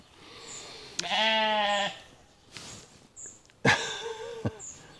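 Sheep bleat loudly nearby, a long wavering call followed by a second bleat, with outdoor background noise and a few short knocks.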